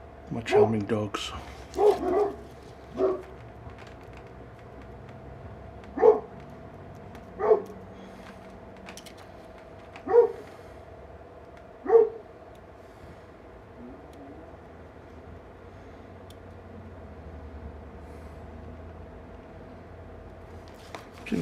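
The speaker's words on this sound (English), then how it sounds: "My charming dogs." Dogs bark indoors in a scattered run of sharp, single barks spaced a second or more apart, fairly loud against a steady electrical hum, then the room goes quiet.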